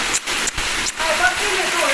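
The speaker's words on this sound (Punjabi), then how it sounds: "ਮੀਂਹ ਆਈ ਜਾਂਦਾ ਪੂਰਾ ਜ਼ੋਰਾਂ ਤੇ" Heavy rain hisses steadily on surfaces close by, with a few brief dips in the noise and faint voices underneath.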